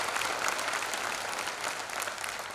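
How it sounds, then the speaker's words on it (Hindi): An audience at a Hindu religious gathering with Bageshwar Sarkar in Pimpalgaon, Nanded, claps loudly. The dense, sustained applause fills the whole moment without voices. "एक बार जोरदार ताली बजा के पूज्य महाराज जी को धन्यवाद दें।"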